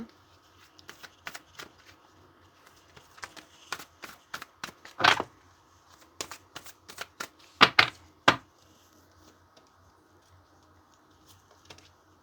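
Tarot cards being shuffled and picked by hand: sharp dry flicks and slaps in irregular clusters, with a few louder riffle bursts, close and quiet with no talk.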